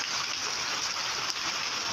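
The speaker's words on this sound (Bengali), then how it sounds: "খুব সুন্দর বৃষ্টি হচ্ছে" Heavy monsoon rain pours down outdoors, soaking a tree, in an unbroken loud hiss that holds steady throughout.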